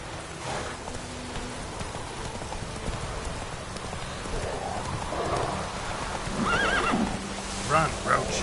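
Roach the horse in The Witcher 3 gives a sharp whinny near the end, over steady rain and hoofbeats, with a voice speaking briefly.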